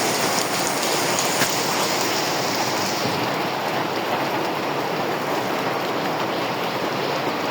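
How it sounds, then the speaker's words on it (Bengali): Steady, heavy rain pours down in a dense, continuous hiss with no voices. "সারাদিন এমন বৃষ্টি, সব দেখেন মনে হয় যে বর্ষার পানি, এত পানি উঠছে দেখেন"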